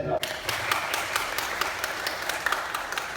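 Guests applaud at a Turkish civil wedding ceremony, a steady wash of many hands clapping that carries on throughout, fairly close and continuous with no pauses.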